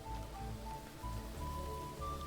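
Steady rain falls in a video game scene, a continuous soft hiss over low rumbling ambience with faint tonal music lines, no voices.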